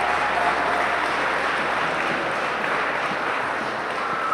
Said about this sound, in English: a round of applause for Donna who's taking this on.